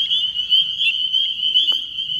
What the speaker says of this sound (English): I hear a lithobatous frog farther down